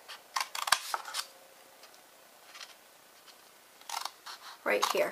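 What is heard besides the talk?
cutting paper for a gift box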